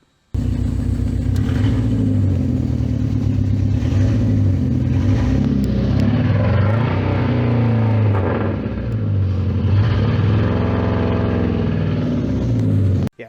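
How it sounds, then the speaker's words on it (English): A Dodge SRT-4 with a worn piston ring is heard close up. It runs loud and rumbling, and its engine rises and falls through several revs over a steady idle, with no talking. "Here's a video real quick of how it sounded with it running, and you can obviously see the smoke whenever I rev it."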